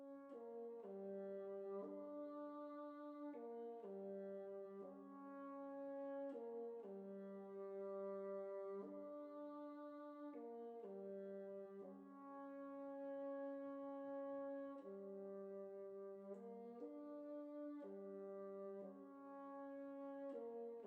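Bassoon joining a clarinet in an orchestral piece, two woodwind lines playing sustained, stepwise melodic notes together at soft volume, no talking.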